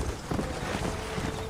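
Horse hooves clip-clop steadily on a dirt trail in the Red Dead Redemption game, a continuous mid-level rhythm blended with ambient game sound and no speech.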